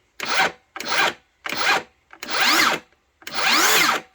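Five short bursts of a 7 1/4-inch rear-handle circular saw motor whining up and cutting off, each a second or less, the last two longer and rising in pitch.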